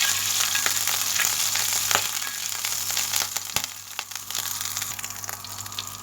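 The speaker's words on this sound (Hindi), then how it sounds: "ज़ीरा डाल के भी अच्छी तरह मिक्स करेंगे।" Cumin seeds, onion and garlic sizzle steadily in a hot pan while being stirred for a lauki chana dal, the frying loud and close with scattered clicks and scrapes of the spoon.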